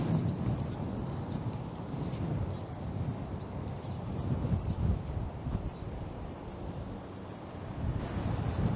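Strong wind buffeting a microphone during an outdoor city walk in downtown Toronto in March, a continuous low rumbling roar that surges and eases in gusts, with no talking.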